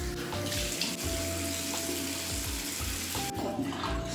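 A bathroom tap runs steadily while a face is rinsed at a sink after cleansing, continuous splashing water with small irregular splatters, close and fairly loud, no talking.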